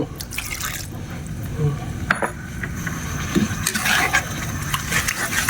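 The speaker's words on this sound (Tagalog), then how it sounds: "Lagyan natin ng konting tubig." Water is poured into a pan of stewing tomato and egg, splashing and dripping in uneven bursts close by amid kitchen clatter.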